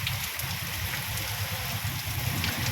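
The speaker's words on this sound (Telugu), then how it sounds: "అసలు మామూలు వర్షం లేదు ఇక్కడ," Steady, dense heavy rain hissing down at Kotappakonda across the whole clip, with a low rushing rumble underneath and no voices.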